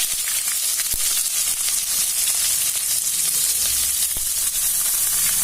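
Cut onions drop into hot oil for pea and potato kurma, giving a loud continuous hissing sizzle close by, with a couple of brief knocks against the pan and no talking.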